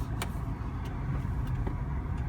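A 2014 BMW X1 sDrive28i driving on the road, heard from inside as a steady low engine and road-noise drone with a few faint ticks and clicks in the cabin.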